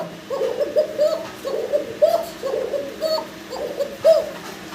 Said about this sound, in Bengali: নর্মাদি সুন্দর ডাকে অসাধারণ অসাধারণ ডাকা ডাকে শুনতেই পাচ্ছেন আপনারা